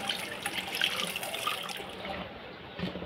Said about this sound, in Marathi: हे आपल्याला असे या चाळणीमध्ये घेऊन एक पाण्याने स्वच्छ धुवून घ्यायचे आहे